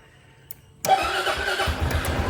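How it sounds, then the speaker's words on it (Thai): A 2008 Suzuki Skywave 400 (K8) maxi scooter starts up after a brief quiet moment, cranking, catching, then settling into a steady close mid-pitched idle with no talk over it. "เดี๋ยวฟังเสียงเครื่องยนต์กันดีกว่า"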